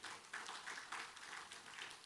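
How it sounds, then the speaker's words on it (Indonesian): A church congregation applauds together, a dense, continuous patter of many hands clapping at moderate distance, steady throughout with slight swells. "Berikan tepuk tangan bagi Tuhan."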